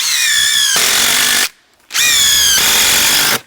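A power drill drives screws into wooden supports during flood damage repairs, whirring loudly in two sustained bursts with a short silent pause between them and a whining pitch that shifts as each screw seats.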